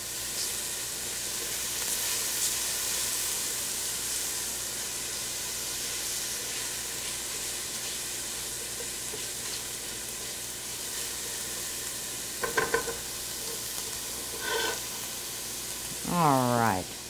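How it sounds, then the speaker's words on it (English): Chili in a pot on medium-high heat sizzles with a steady hiss as it is stirred. A few faint clinks are heard, and a voice comes in briefly at the end. "I'm going to give that a nice little stir."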